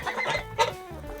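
Homestead chickens cluck and squawk in a quick burst of close, loud calls, a few overlapping voices from the flock with no people talking.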